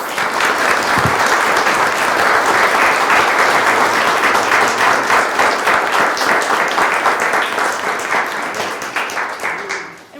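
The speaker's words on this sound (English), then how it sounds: "if everybody will give them a round of applause" A city council meeting audience applauds poster contest winners, with dense, sustained clapping from many hands lasting around ten seconds before tapering off at the end.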